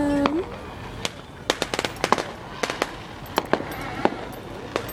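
Fireworks go off in quick, sharp, irregular pops and crackles, some in rapid clusters, heard from a moderate distance outdoors with a brief voice at the start.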